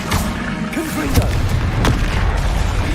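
Confringo explosive spell blasts in Hogwarts Legacy, heavy booming impacts with sharp bursts around the middle, loud and close over rumbling battle noise.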